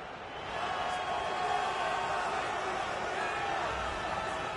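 A stadium crowd in the video game EA FC 24 celebrates a derby goal, a dense, sustained roar that rises early and holds steady, moderately loud with no clear voices standing out.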